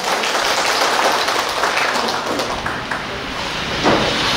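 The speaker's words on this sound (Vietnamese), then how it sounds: "các bạn hãy nổ một tràng pháo tay thật rực rỡ ạ" Sustained applause from an audience gathered at a 30-year school reunion of a lower secondary class, broad steady clapping filling the room at a fairly even level with no voices standing out.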